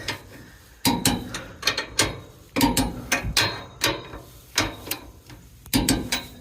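A torque wrench on trailer wheel lug nuts gives a series of sharp metallic clicks and ratcheting bursts in short irregular groups, close and fairly quiet, with no talking.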